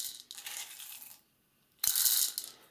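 Coffee beans poured by the scoop into the hopper of a Capresso Infinity burr grinder: two close, bright bursts of hard rattling clatter separated by a brief quiet pause, the second pour louder and denser, with no talking.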